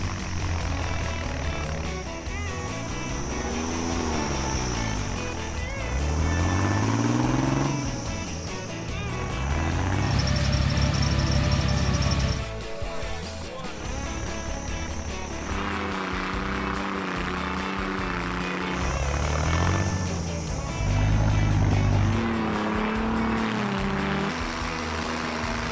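Engine of a 1950s or 1960s Bombardier Bombi tracked vehicle running while it is driven, a steady mechanical drone that swells and dips with throttle changes, fairly close and heard alone.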